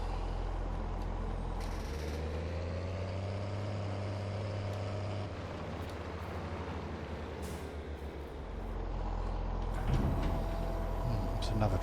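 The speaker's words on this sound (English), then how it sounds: "It's another trailer load going in." A loaded trailer is tipped and emptied in a farming simulator, with a heavy truck-like engine drone, a rising hydraulic whine and air-brake hiss, under steady background noise.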